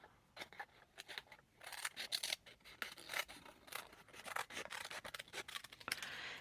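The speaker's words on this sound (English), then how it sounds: "let's trim around this one" Small scissors snip around a tiny framed botanical art piece for a craft magnet, a close, quiet series of irregular crisp cuts with rustling paper between them and no talking.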